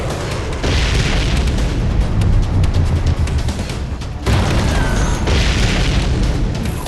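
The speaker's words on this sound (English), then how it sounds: "We seem to be witnessing a firefight on the perimeter of the White House." Heavy explosions from a firefight in the Guilty Gear Strive video game rumble continuously, with loud booms and sharp bursts layered over a dense roar, pausing briefly before another barrage.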